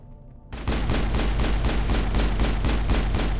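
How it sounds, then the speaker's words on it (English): Pistol gunfire in Mass Effect: after a brief quiet lead-in, a rapid, evenly spaced string of about a dozen loud, punchy shots rings out in steady rhythm, with no voices. "Love how accurate the pistol is in this game."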